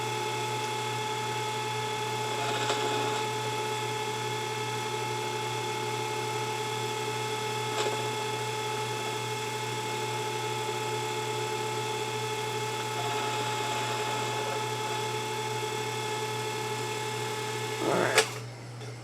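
Proxxon 150 mini lathe machining brass, giving a steady, continuous motor whine with a faint cutting hiss that swells now and then, close and even throughout, with a brief sharp clatter near the end.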